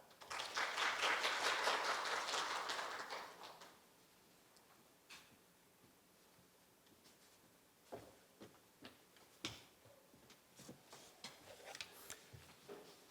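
At a Korea University student history-video contest award ceremony, the audience claps in a full, steady burst for about three seconds to welcome a history professor, then it breaks into sparse taps and small clicks in a quiet hall.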